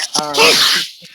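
A single sharp human sneeze bursts out close to the microphone, a quick voiced inhale followed by a loud hissing release that fades into quiet.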